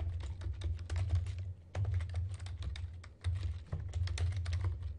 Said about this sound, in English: We can type a file name for it.